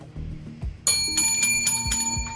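A bell marks the end of a speaking turn in a televised fall TV debate show: a bright, ringing metallic bell struck in several rapid repeated hits, loud and close, following some low murmuring sounds.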